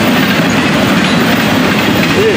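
A freight train of double-stack cars rolls past close by at night, a loud continuous rumble with steady wheel clatter and a faint squeal near the end.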